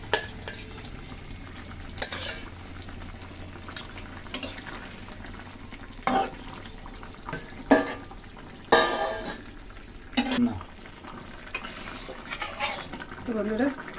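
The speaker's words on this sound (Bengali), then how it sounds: "তো বন্ধুরা মাছ দিয়ে দিচ্ছি, দেখুন ভেজে রাখা মাছগুলো এখন দিয়ে দিলাম।" Fried koi fish dropped into a pan of simmering gourd and potato, with scattered stirring scrapes and utensil clinks against the pot over a steady low sizzle.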